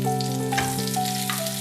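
Onion, tomato and capsicum rings frying in leftover gola kabab oil and masala, a steady close sizzle throughout with a low hum in the background and no voices.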